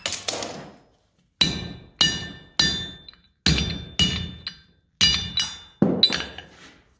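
Metal is hammered to cut it to length at a blacksmith hammer-in: eight sharp, ringing strikes, the first two close together and the rest at irregular intervals, each ringing briefly and decaying.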